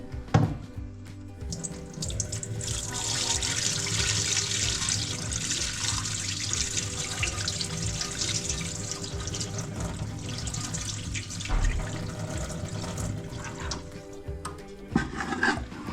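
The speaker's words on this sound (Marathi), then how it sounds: "आता हे सगळं पाणी ह्याच्यातलं निथळून घेणार आहे मी" Water draining from soaked wheat pulp for kurdai, a steady trickling, hissing flow that runs continuously at close range for many seconds, with a few faint handling knocks.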